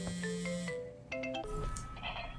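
A melodic phone ringtone in the video game Crime Scene Cleaner, with a short sequence of bright electronic tones stepping up and down, clear and alone.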